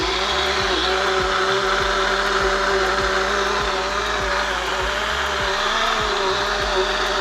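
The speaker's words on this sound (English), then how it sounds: "everything is blending" A ZHENMI portable juicer blender blending a green juice, a loud, steady motor whir with rapid rhythmic thumps from the blades churning the contents.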